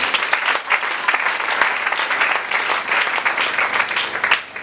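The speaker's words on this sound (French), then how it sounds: "Est-ce qu'on peut acclamer très fort?" Congregation clapping loudly in a church, dense continuous applause from many hands, steady and close for the whole stretch with no talking over it.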